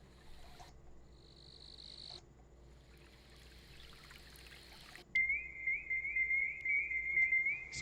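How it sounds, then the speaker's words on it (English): Spring peepers call in a frog chorus ambience track, with high, piping peeps over a faint background hiss, joined partway through by a louder, sustained trilling call up close. "Spring peepers! You know I love myself some spring peepers."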